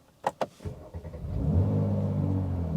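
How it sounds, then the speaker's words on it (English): Mercedes C43 AMG engine cold-starting: a couple of sharp starter clicks, then the engine catches and settles into a steady, rumbling idle, close and fairly loud. "let's go for a cold start. We'll flip the ignition on."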